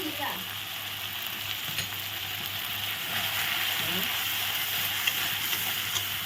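Spices and chili powder frying in a pan with salt and turmeric for a vegetarian dish, a steady close sizzle with a faint scrape of stirring throughout, alone without talk.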